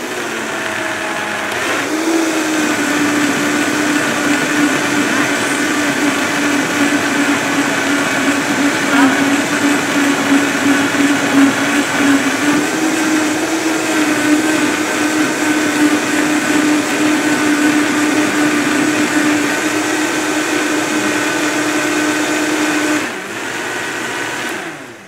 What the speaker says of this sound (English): you do want to let your blender run for like 4 minutes to kind of warm it